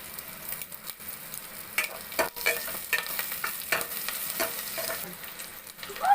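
Golden onions and fresh curry leaves fry in a pan for a Kanniyakumari-style stingray fish curry, making a soft crackling sizzle broken by several sharp stirring scrapes, with no voices.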